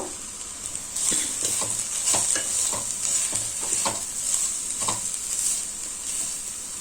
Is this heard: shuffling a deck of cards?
no